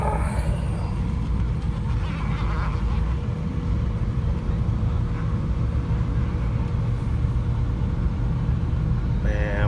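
A 1994 Cadillac Sedan DeVille with a 4.9 V8 and nearly 200k miles cruising along, a steady low engine and road rumble heard from inside the cabin, with a brief voice at the start.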